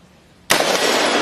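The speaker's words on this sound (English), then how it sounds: "it will fire once when you pull the trigger, like this" A single sharp report from a Colt M16 rifle fired outdoors, a sudden loud crack followed by a long, bright, echoing tail, with near silence before it.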